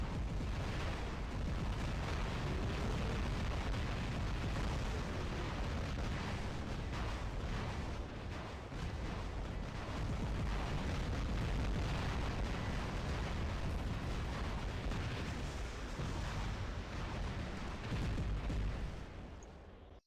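Light Zeus-type energy weapons firing in the War Robots game, a dense, continuous roar of blasts and booming impacts that stays loud for the full length, with no talk.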